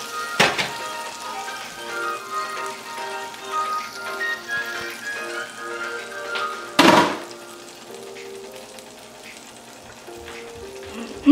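Onions sautéing in a pan for a Hungarian beef pot roast, a steady close sizzle with a sharp clatter near the start and another loud utensil knock midway, with no talking.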